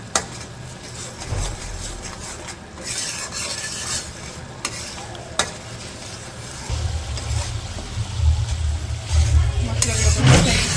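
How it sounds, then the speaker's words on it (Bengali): Coriander and chili powder frying in a pan for khichuri, with steady stirring scrapes over a soft sizzle that grows louder and fuller toward the end. "মরিচের গুঁড়া, মশলাগুলো কষে নিই।"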